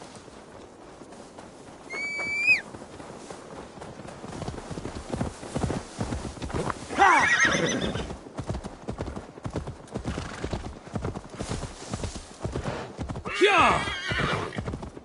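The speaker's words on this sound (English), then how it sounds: "Now to deliver Magni his horse." In Assassin's Creed Valhalla, a horse gives a short shrill whinny, then its hooves clip-clop in a steady run with a couple more neighs later on, and a voice shouts once.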